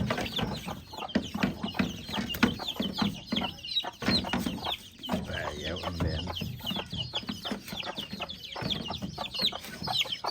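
Native chickens and Rhode Island Red hens cluck steadily and close by in a farm brooding pen, a busy run of short clucks with faint speech in the background.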